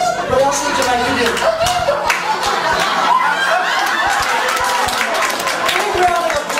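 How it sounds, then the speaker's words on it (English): An audience claps and laughs together in a loud, dense burst that holds steady throughout, with chuckles mixed into the clapping. "Big round of applause."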